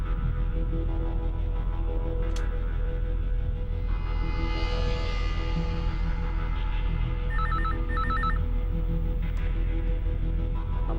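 A telephone rings in a Hindi crime drama scene, short bursts of electronic ringing over a constant loud hum, with no talk.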